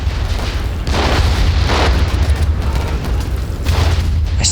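Anti-tank rounds strike a target in a wartime video game, a dense, continuous run of loud, close booms and blasts with rolling rumble and no pauses between impacts.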